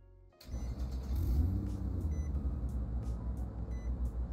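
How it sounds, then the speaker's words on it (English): A Nissan R35 GTR in the Roblox game Greenville cranking to life with a sudden startup burst, then settling into a steady close idling rumble with faint chimes above. "this car, along with the 2017 trim, they received a new startup noise"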